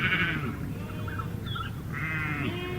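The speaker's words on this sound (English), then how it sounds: "sheep," Sheep bleating twice, a wavering bleat at the start and another near the end, fairly close and clear over a low background rumble.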